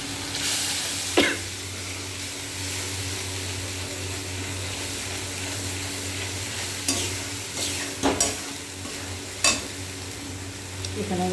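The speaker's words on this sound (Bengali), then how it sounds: "এখানে আমি ভাজা তেলের মধ্যেই মশলাটা কষিয়ে নিলাম।" Turmeric and cumin powder frying in hot oil while being stirred: a steady, close sizzle runs throughout, with a few sharp scrapes of the spoon against the pan.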